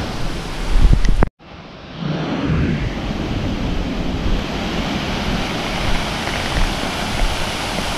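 Water rushes loudly and continuously at YEH HOO Waterfall in Bali, a close, dense roar that swells in after a brief cut and stays steady throughout.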